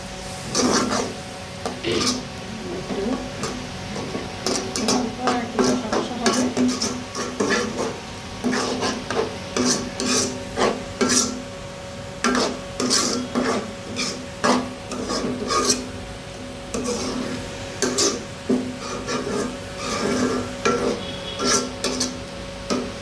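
A pabda fish masala of turmeric, chili, cumin, onion and garlic is stirred in a pan, a spatula scraping and rubbing in repeated uneven strokes over a low frying hiss, with no voices.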